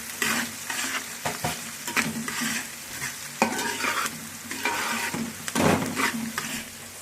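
Onions and curry leaves sizzle and fry in a pan for Nellore fish pulusu, a steady close hiss broken by repeated scraping strokes of a stirring spoon, with no talk.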